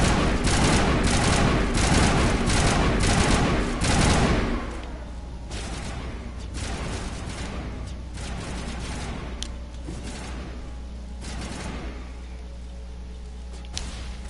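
Mass Effect Legendary Edition firefight: heavy, continuous rapid gunfire roars for several seconds, then gives way to scattered, quieter bursts and single shots against a low rumbling background.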